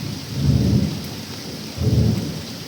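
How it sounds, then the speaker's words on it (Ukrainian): Heavy summer rain pours steadily outdoors in a hot spell, with two deep rolling rumbles of thunder swelling and fading one after another, loud and close, with no voices. "І прийшов до нас дощ."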